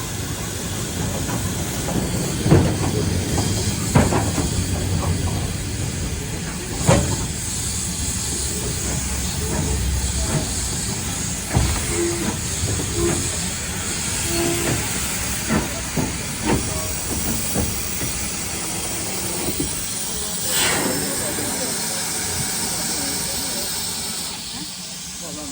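A steam locomotive stands at a station on a heritage railway, hissing continuously with loud bursts of escaping steam and clanks over a busy, noisy platform background.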